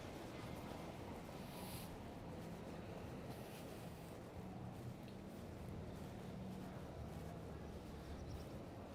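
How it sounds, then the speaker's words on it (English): Steady wind noise outdoors on a riverbank in Lisbon, a continuous broadband rush buffeting the microphone at moderate level throughout, with faint water and distant ambient sound beneath and no talk. "a bit windy"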